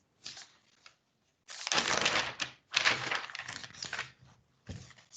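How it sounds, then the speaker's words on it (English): Sheets of paper shuffled and handled at a desk during a formal legal hearing session, several close bursts of crisp rustling and crinkling with short pauses between. "the shuffling of papers you might have heard indicates I'm ready to go on action points"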